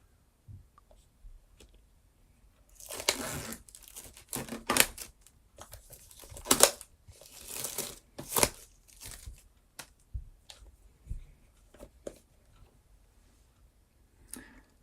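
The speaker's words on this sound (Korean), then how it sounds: "바로 언박싱 해보도록 하겠습니다" An AirPods 2nd generation wireless charging model box is unboxed: bursts of crisp crinkling, tearing and rustling cardboard and plastic, clustered in the middle, with quiet pauses between.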